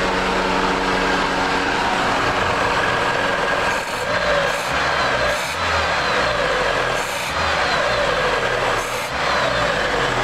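A car engine fitted with new Silvio 2E carburetors idles steadily and loudly close by, a constant droning rumble with no change in revs and no voices.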